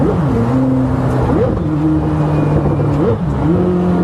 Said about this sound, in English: Listen to the downshift.